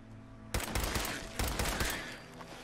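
Bursts of gunfire from a weak gun in Fallout 4, two loud rapid volleys of shots about a second apart, ringing out with no talk.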